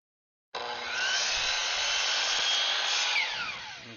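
A chop saw starts up abruptly and cuts through wood, producing a loud, sustained whining buzz for about three seconds that slowly fades away as the blade winds down.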